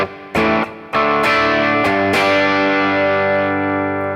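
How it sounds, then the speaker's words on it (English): Clean electric guitar with bridge humbucker through a pushed Twin Reverb style amp and Overdrive Plus pedal: a few plucked notes, then strummed chords ringing out and slowly decaying, close and loud with no talk. "So this is clean, kind of push twin reverb style amp."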